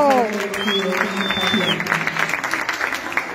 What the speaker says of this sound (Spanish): Y un gran aplauso también.